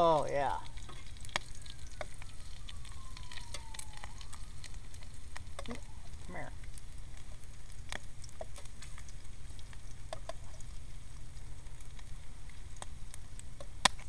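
Bacon frying in a pan at a wild camp, a steady crackling sizzle with scattered pops running throughout, fairly loud and close, with no talk over it.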